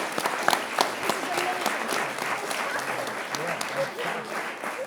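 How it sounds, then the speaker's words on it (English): A warm, hot room of panel-event listeners breaks into applause, a dense, steady patter of many hands that holds at moderate loudness throughout, with cheers or voices blended in. "I love that loud applause."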